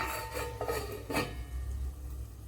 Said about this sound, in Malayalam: ലോ ഫ്ലെയിമിൽ വെച്ച് കൊടുത്തിട്ട് ഇതൊന്ന് അടച്ചു കൊടുക്കാം